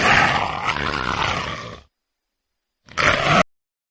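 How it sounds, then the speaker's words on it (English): A cheetah gives two loud, harsh, rasping growl-like calls: a long one of nearly two seconds, then a short burst after a pause of silence. "cheetah"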